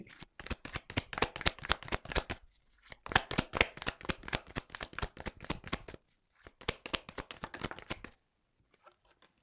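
Tarot cards being shuffled, three bursts of rapid riffling with short pauses between them, close and crisp, ending in a few faint taps.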